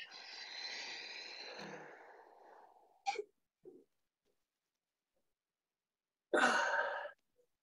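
A person breathes in and out during a golf strength and mobility exercise. A long, soft exhale is followed by a couple of brief breaths and then a quiet pause. Another strong, short exhale comes near the end.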